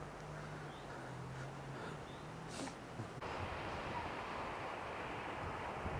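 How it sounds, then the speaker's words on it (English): Strong outdoor wind buffets the microphone at Wildwood, a steady broadband roar that jumps abruptly louder about halfway through and stays rough and close to the end. "Definitely windy. That just went nuts."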